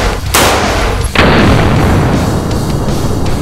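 Two powerful pistol shots at an outdoor range, one after the other, each a very loud, close blast with a long ringing echo trailing off.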